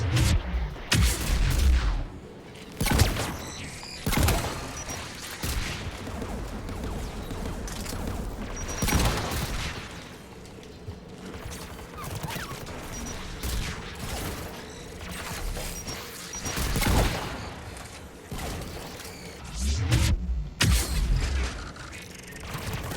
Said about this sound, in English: The Geth anti-aircraft guns are up ahead.